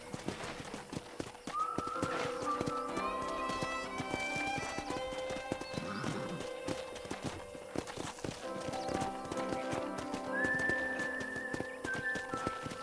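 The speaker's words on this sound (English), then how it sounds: "let's see if you can still ride a horse" Rhythmic hoofbeats of a horse moving steadily in Red Dead Redemption, with game-style tonal effects and music layered over them, occasional whinny, fairly quiet overall.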